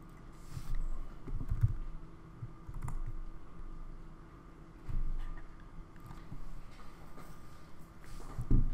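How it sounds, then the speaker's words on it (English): Someone types a message on a computer keyboard, with close, irregular clusters of key taps that rise and fall in short bursts. "And then start typing the message."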